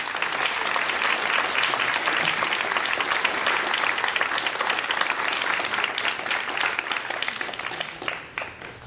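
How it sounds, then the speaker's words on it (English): Sustained applause from an audience at a League of Women Voters candidate forum in Clallam County, a dense, even wash of many hands clapping that holds steady for several seconds, then tapers off near the end. "Let's give a round of applause."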